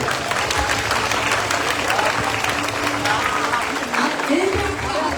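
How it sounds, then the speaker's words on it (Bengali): Audience applause at a university biology olympiad award ceremony, a steady dense wash of clapping across the whole stretch with a faint voice underneath. "সবাই একটু জোরে জোরে হাততালি দেবো"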